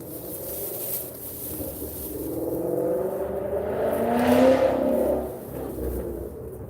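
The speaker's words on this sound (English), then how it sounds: "somebody's revving their engine." A car engine nearby revs up through a rising, whirring surge that peaks and then drops back, heard outdoors near a garden with no talking over it.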